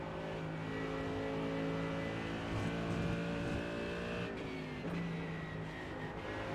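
An LMP2 prototype race car in the iRacing sim sweeps past with a rising then falling engine note, loud and sustained, its pitch shifting as it goes by, with no voices over it.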